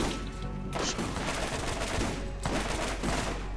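Rapid sustained gunfire in the Borderlands video game, dense automatic bursts with loud booming hits running continuously for a few seconds.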